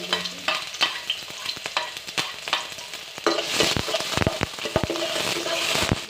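Chopped onion and garlic fry in a pan with a steady, close sizzle, broken by a run of sharp scraping and stirring knocks against the pan that grow busier toward the end; no one speaks.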